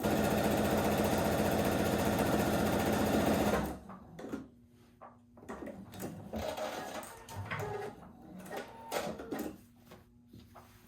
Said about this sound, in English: We're going to stretch this out and keep sewing.